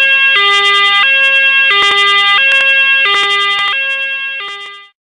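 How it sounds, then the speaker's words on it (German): A toy police car siren from a Playmobil set, cycling loudly through repeated two-tone electronic wails at close range for about five seconds, then cutting off abruptly, with no talking over it. "Schaut mal, Kinder, da fährt gerade ein Streifenwagen zum Einsatz."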